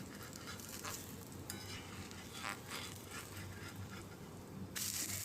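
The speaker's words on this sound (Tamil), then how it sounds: "இப்போ தோசை மாவை நம்ம ஊற்ற ஆரம்பிச்சிடலாம்." Rava dosa batter hisses and crackles softly on a hot pan, a faint, steady sizzle with a few slightly louder bursts of frying.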